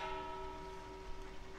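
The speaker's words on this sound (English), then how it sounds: "Ah, bell ring." A bell ring sound effect placed in a Planet Coaster theme park, a sustained, resonant tone that rings steadily and fades slowly, heard fairly quiet with faint background noise.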